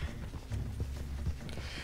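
Horse hooves clip-clop at a steady walking pace in the Red Dead Online video game, a soft, muffled rhythm of repeated thuds with no talk over it.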